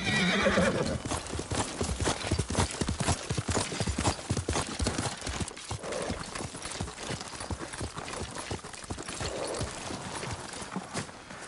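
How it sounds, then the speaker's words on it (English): A horse in the Ghost of Tsushima video game clip-clops steadily on the ground, hooves close and rhythmic, with neighs and whinnies breaking through at moments. "Yuriko's horse. She can't be far."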